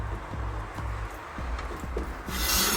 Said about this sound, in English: I'm going to turn the saw until it slides